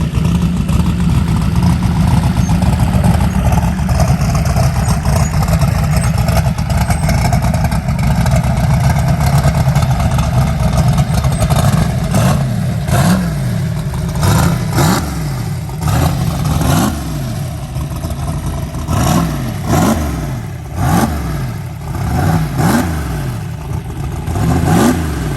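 Turbocharged Saturn car engine heard from inside while driving, a loud continuous drone with repeated rises and falls in pitch as it accelerates and shifts, close and steady throughout.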